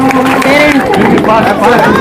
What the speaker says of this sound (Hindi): जोर से तालियां बजाओ बच्चों, तालियां बजाओ।